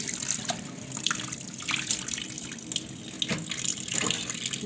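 Tap water runs steadily into a sink while something is rinsed for a homemade afternoon snack, a continuous splashing stream with small irregular surges.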